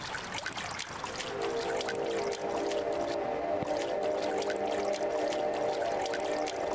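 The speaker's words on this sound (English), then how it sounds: "I just jump in the waterfall." A waterfall in the video game Tales of the Neon Sea rushes in a constant, loud pouring wash, with steady tonal game sound layered beneath and no talk.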